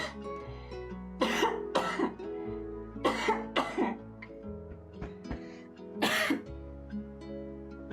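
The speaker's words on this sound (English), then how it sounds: "I need to cough really badly" A person coughs and clears their throat in several close, harsh bursts spread across a few seconds, over a low steady background hum.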